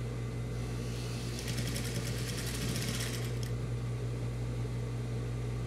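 A sewing machine stitches fabric scraps together for a rag rug, giving a steady close mechanical whir with a quicker burst of needle clatter in the middle before settling back to a low hum.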